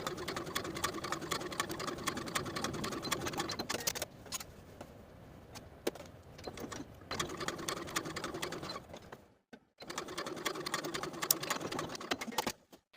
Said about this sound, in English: we're going to top stitch on the yoke side of the garment 1/8 of an inch away from the seam line